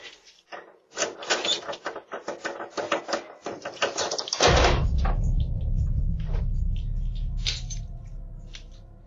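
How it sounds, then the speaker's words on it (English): A front door is unlocked and opened: a run of sharp metallic key-and-latch clicks and rattles, then a louder, low rushing sound as the door swings, with a few faint clicks afterward. "the uploader is unlocking her front door to get inside"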